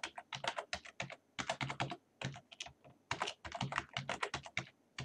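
Someone types a password on a computer keyboard, making quick bursts of close, crisp key clicks separated by short pauses. The sound is fairly quiet and there is no talking.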